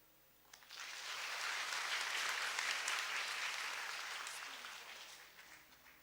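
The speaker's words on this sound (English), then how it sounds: "I think Dr. Mahathir deserves a round of applause for his energy." Audience applause for Dr. Mahathir at a lecture, a broad wash of many hands clapping that swells quickly, holds steady for several seconds, then slowly tapers.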